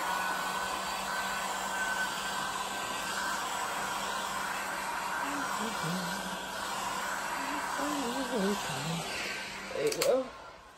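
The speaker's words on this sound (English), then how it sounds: "There's the blow gun." An air blow gun hisses steadily onto an acrylic puddle pour with a matrix swipe, a continuous loud rushing blast running throughout while someone talks over it.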